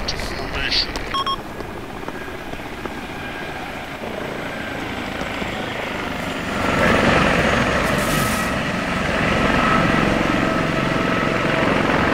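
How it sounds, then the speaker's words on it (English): Black Hawk helicopter in a realistic military video game, loud continuous rotor thrum that swells around midway as it passes close overhead, with radio chatter mixed in. "We got our chopper right over him."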